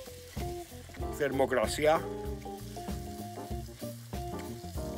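A tomahawk steak sizzles in butter on a hot salt slab, a steady frying hiss that runs under someone speaking throughout.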